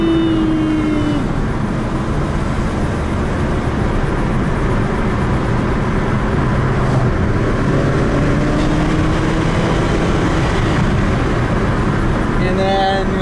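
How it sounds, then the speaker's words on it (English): A 2013 Kia Optima accelerates up to about 40 on a road drive, with a loud, steady engine and road roar inside the cabin and no clear separate events. "Give her the beans here, we'll get her up to 40 and then we'll slow down."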